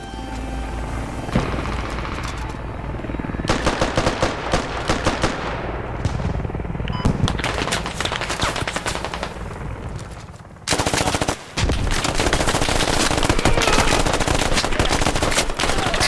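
Machine gun fire in the military shooter game Squad, sustained dense bursts from a hand-held machine gun with other gunfire, loud and continuous, broken by one brief pause.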